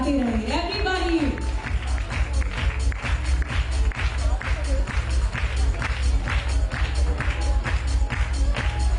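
An audience at a Women's Day celebration claps steadily and loudly throughout, with a host's voice and background music running over the dense, continuous applause.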